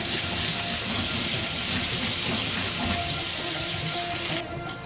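Paneer frying in a pan at home, releasing its water into the hot oil and giving off a loud, steady, close sizzling hiss that drops away abruptly at the very end.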